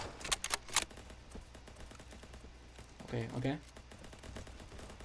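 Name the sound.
gunfire in the video game Ancient Warfare 3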